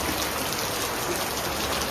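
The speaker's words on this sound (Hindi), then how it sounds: "बारिश हो रहा है, आप लोग देख सकते हैं।" Rain falls steadily outdoors as a continuous, even hiss with no breaks across the whole stretch and no voices over it.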